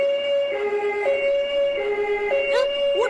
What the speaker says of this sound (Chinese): 救护车！